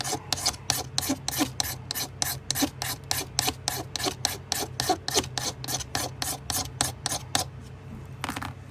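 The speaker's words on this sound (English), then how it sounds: "Just scraping it off." A chipped bone knife handle scraped by hand, about twenty quick, evenly spaced rasping strokes, close and steady, with a brief pause near the end.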